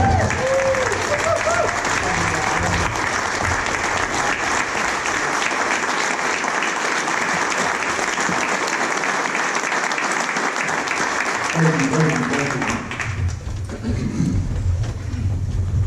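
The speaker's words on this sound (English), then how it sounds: "would you please give a great round of applause, standing applause, for Shadetree" A Tallahassee Quarterback Club audience gives a standing ovation to a speaker being introduced. Loud, dense applause is sustained for the whole stretch, and a few voices and cheers rise near the end as it tapers off.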